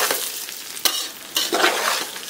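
Marinated rice fries in oil and ghee with a bright close sizzle, broken by sharp scraping stirs of the spoon against the pot.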